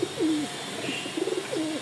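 Soft pigeon coos repeat in a few rounded, throaty phrases, fairly close, with a faint background hum and no talking.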